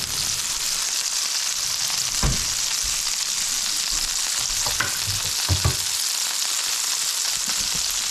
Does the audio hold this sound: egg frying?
yes